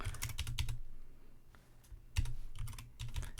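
Quick clusters of keystrokes on a computer keyboard enter the mkdir command, close and fairly quiet, in two bursts split by a short pause with a few single taps, no talk.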